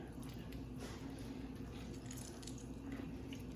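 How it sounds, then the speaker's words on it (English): Water being squeezed by hand out of canned jackfruit, dripping and splashing steadily into a sink or bowl at close range, with a continuous wet trickle under faint background hum. "and just squeeze out whatever water you can."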